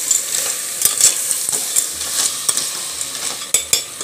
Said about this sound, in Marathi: आता हा असा मिक्स करून घ्यायचा याच्यामध्ये.